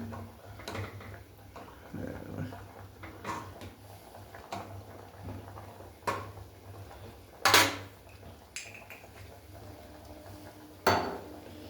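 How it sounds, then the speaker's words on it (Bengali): A spoon gently stirs chicken stew seasoned with soy sauce in a cooking pot, producing soft scrapes and several distinct metallic clinks spaced irregularly, close by in a quiet kitchen. "হালকা হাতে নাড়িয়ে দিতে হবে।"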